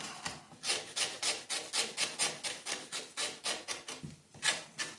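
Custom leather knife sheath for a Rambo 3 knife being smoothed by hand, a steady run of rhythmic rubbing strokes about four per second, close and clear, with no talk.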